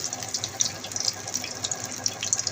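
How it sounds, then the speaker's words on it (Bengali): A bread slice coated with masoor lentil paste fries in very hot oil, a steady close crackling sizzle scattered with small sharp pops, with no talking. "এখন দিয়ে দিচ্ছি তেলের মধ্যে। তেলটা কিন্তু খুব ভালো মতন গরম হয়ে গেছে।"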